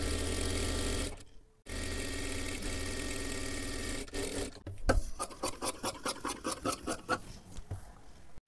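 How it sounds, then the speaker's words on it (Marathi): A sewing machine stitching a blouse runs in a steady, buzzing whir, pauses briefly, resumes, then breaks into short, rhythmic bursts of stitching near the end. "आता इथे खालच्या बाजूला सुद्धा एक शिलाई मारून घ्यायची आहे पूर्ण."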